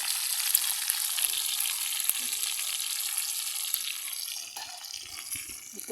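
Oil spattering and sizzling in a pan while cooking, a bright, steady hiss with scattered pops and crackles, moderately quiet, easing slightly toward the end.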